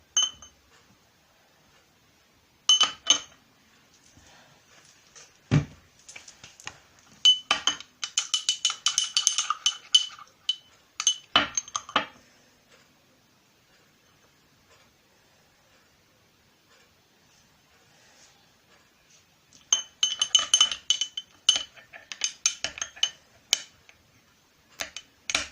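A small spoon clinks and scrapes while mixing homemade slime, scattered bursts of bright taps and clicks close by separated by long quiet gaps.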